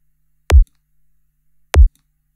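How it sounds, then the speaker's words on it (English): Two isolated kick drum hits built from a pure sine wave, each a sharp click that drops into a deep, short low-frequency thump, spaced about a second apart and alone in silence. "But for this particular sample, we know this is a pure sine wave."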